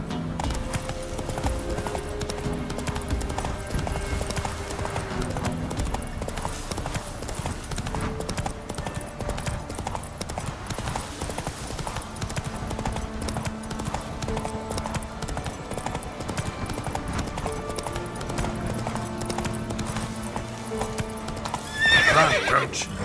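Horse galloping in The Witcher 3 video game, with rapid continuous hoofbeats and several whinnies, a loud neigh near the end, set against game music and ambience.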